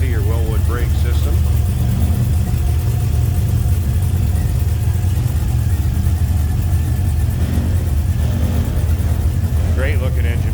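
A 495-horsepower LS3 V8 in a restomodded 1956 Chevrolet Bel Air Nomad idles steadily with a deep low rumble throughout, a faint vibrating rattle from the hood mixed in, while people talk over it.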